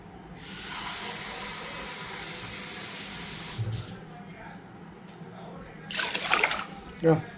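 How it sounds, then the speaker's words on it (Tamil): Water is poured onto rice in a pot for chicken biryani, giving a steady hissing pour for about three seconds, followed by softer splashes and clinks, fairly close, with talking nearby. "ஒரு கப்புக்கு அரிசிக்கு 2 கப்பு தண்ணி ஊற்றிக்கிடுவோம்"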